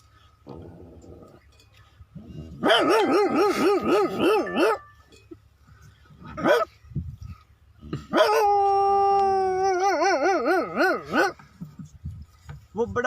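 A person vocally imitates a big dog, producing loud drawn-out howls and bark-like yowls in two long bursts with short pauses between, no other sounds around.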